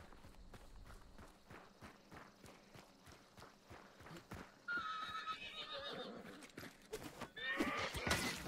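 Hooves clip-clop in a steady rhythm, then a horse in the video game Hunt: Showdown lets out a loud, shrill whinny, followed by another neigh.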